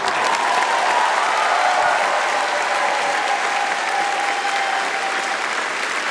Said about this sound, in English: Everybody, big round of applause for the Street Dog Coalition.